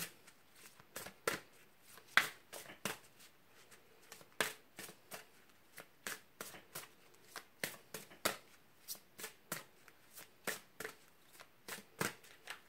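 An oracle card deck is shuffled close by in a steady rhythm, giving about twenty crisp riffling strokes one after another. No one speaks.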